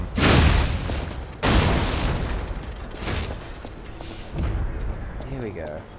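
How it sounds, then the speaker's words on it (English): Several heavy booming video game cannon blasts, loud and close, each followed by a rumbling decay, with someone talking over them between shots. "Down with the cannon."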